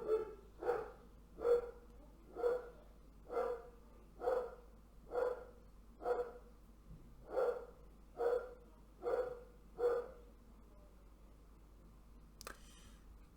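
A dog barks steadily about a dozen times in an evenly spaced rhythm, each bark moderately loud at mid distance, followed by quiet and a brief click near the end.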